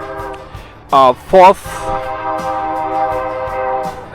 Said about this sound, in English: that's a train going by.